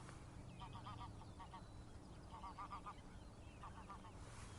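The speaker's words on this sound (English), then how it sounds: "You can hear some grey-lag geese." Several bursts of greylag goose honking in short clustered calls, moderately distant, over a steady background of outdoor marsh ambience.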